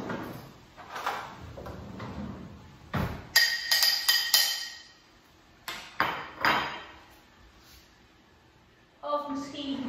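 A decorative plate struck like a percussion instrument, giving a few bright, ringing taps with short clusters of hits, heard close and fairly loud against a quiet room with brief pauses between.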